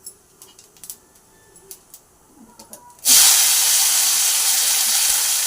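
Onion, garlic and ginger hit hot oil already used for frying paneer with cumin, bursting into a loud, steady sizzling hiss after a few seconds of quiet kitchen clatter.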